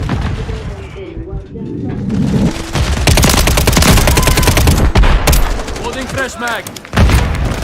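Video game firefight: rapid bursts of automatic gunfire and a heavy grenade blast booming close and loud, with radio-style voices calling out over the chaos.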